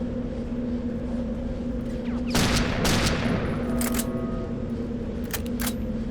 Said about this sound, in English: This is just an automatic sniper.